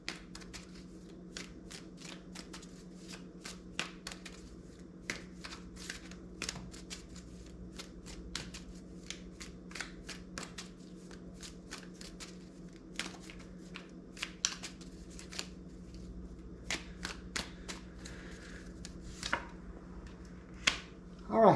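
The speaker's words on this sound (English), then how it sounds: "I'm going to pull out of another deck here." A tarot card deck is shuffled quietly and close up, with repeated crisp riffles and taps over a faint, steady background hum.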